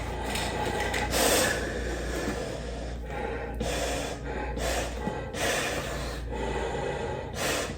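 Breathing through a Keystand full face snorkel mask: close, loud, hollow rushing inhales and exhales repeating in a steady rhythm, each breath a broad airy burst through the mask's valves.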